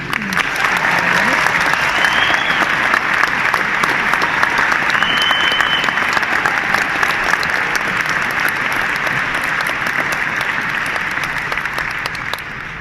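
A large audience at the Fine Gael Ard Fheis gives sustained applause to welcome Councillor Yemi Aduga, loud and steady throughout with some crowd noise mixed in.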